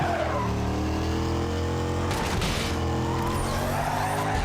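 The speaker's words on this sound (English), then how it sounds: "that nitrous was very poorly timed to exacerbate my drift rather than counteract it" A car drifting in the racing video game Need for Speed Carbon, its engine roaring loud and steady under a sustained tire squeal that wavers partway through.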